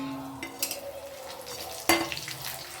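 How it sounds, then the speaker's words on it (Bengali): Cashews and raisins frying in a pan, with a steady low sizzle broken by stirring scrapes and a sharp metallic clink of a spoon against the pan near the end. "কিশমিশও 100 গ্রাম দেওয়া হচ্ছে। এগুলোকে একটু ভেজে নিতে হবে।"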